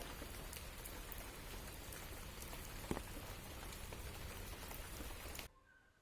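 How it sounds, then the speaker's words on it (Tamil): Steady, soft rain patters continuously on surfaces outdoors during an intermittent downpour, a faint, even hiss with scattered drop taps that cuts off abruptly near the end, with no voices. "மழை இன்னும் விட்டப்பாடே இல்லை. அப்பப்போ நின்று பெஞ்சிட்டே இருக்குது."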